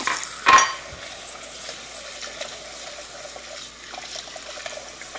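One cup of long grain basmati rice is washed in a bowl of water: a brief splash and swirl at the start, then faint watery stirring and light clinks against the bowl, close and quiet, with no speech.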